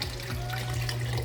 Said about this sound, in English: we've got the water from the hose, and now it's directly feeding towards the tank